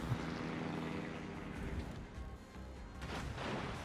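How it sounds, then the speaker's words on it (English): An enemy airplane drones overhead in a naval warfare game, a steady propeller engine roar filling the whole stretch with slight swells and dips. "Is that damn plane gone yet?"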